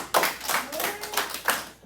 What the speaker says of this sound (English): Clap it up for him, you guys.